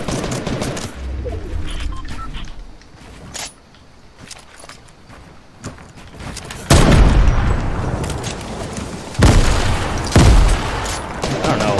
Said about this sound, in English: I don't know what he's shooting with.